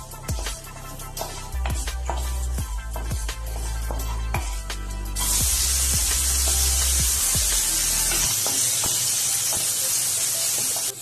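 Sliced onions go into a hot pan with oil and urad dal for onion chammanthi. A few sharp clinks of a utensil come first, then a loud, steady sizzling hiss that holds to the end with no voices.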